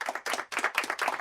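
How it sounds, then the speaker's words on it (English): Audience clapping breaks out just ahead of a live performance at a full benefit concert, short loud bursts of many hands in uneven waves that briefly dip and swell again. "Let's applaud"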